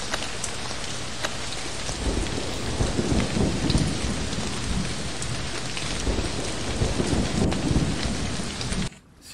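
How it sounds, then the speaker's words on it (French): Heavy tsunami storm in the survival video game Rise of Arks Raft Survival: dense, steady rain with rolling thunder rumbles swelling and fading, loud and continuous until it cuts out abruptly near the end. "La tsunami approche."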